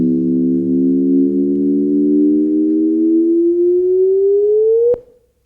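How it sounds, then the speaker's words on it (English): Sonified gravitational-wave signal from two black holes colliding: a steady tone that slowly rises in pitch and ends in a sharp upward chirp, then falls silent, sounding clean and isolated. "That is the sound of two black holes colliding."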